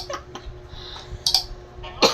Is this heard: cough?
yes